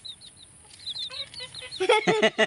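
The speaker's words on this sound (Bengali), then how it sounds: "এটা তো আমাদের বাবু মুরগি" A chicken on a new poultry farm clucks and chirps nearby in short, rapid bursts that grow louder and denser toward the end.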